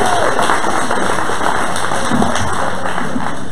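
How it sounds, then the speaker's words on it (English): A festival crowd at an evening storytelling show gives a steady wash of applause, dense and continuous clapping heard from within the audience, with no voice on top. "Give yourself some applause"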